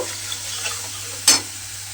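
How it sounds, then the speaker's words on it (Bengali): Masala being fried and stirred with salt in a pan, with a steady low sizzle throughout and one louder scraping stir near the end; no voices. "দিয়ে খুব ভালোভাবে মশলাটা কষিয়ে নেব।"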